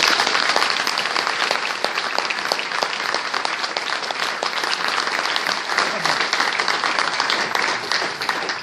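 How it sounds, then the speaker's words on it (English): An indoor audience at a rugby season ticket holders' evening claps in steady, dense applause that runs throughout the clip. "give a round of applause"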